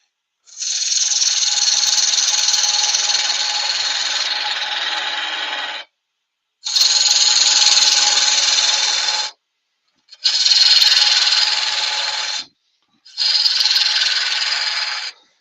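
A wood lathe turns a yew blank under a 1/4 inch bowl gouge, giving a loud, steady hissing cut in four long bursts separated by short silences, with no talk.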